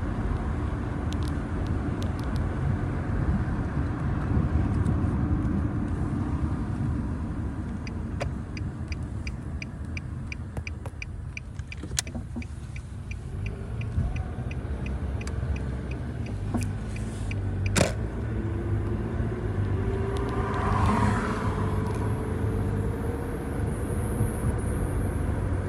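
Engine of a 2014 Nissan Sentra with revs swelling and sagging during acceleration, a steady close drone with a faint rising whine near the end.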